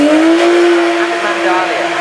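A Pagani Zonda S supercar at the Goodwood Festival of Speed passes close by, its loud, high, steady engine note held for a couple of seconds before easing slightly.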